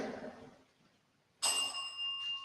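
A bell rings out suddenly and clearly during a ghost-hunting session, a bright sustained chime that follows a fading murmur and near silence.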